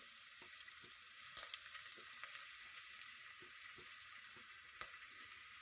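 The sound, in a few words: ginger sizzling in hot oil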